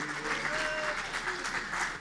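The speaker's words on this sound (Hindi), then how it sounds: "इनका पूरा गैंग तालियाँ बजा रहा है" A large group of college students at a youth convention in Sikkim clapping, dense steady applause filling the whole moment, with a faint voice underneath.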